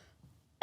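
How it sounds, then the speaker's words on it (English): A single sharp cough bursts out at the very end after near silence, loud, close and abruptly cut off. "I'm coughing"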